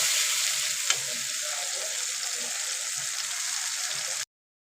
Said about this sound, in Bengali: দেখুন মশলাটা ভালো করে কষিয়ে নেব।